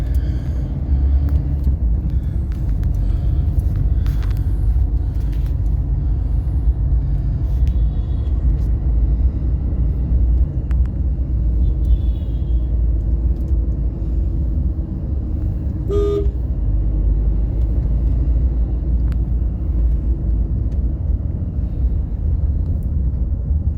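Car driving through busy city traffic toward Mana airport, a constant low engine and road rumble with scattered horn toots from surrounding vehicles and a short beep partway through.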